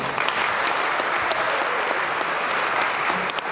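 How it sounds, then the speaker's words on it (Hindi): A seminar audience at a blockchain event in Raipur bursts into loud, continuous applause, a dense steady roar of clapping with no talk over it. "अपने आप के लिए एक बार जोरदार तालियां"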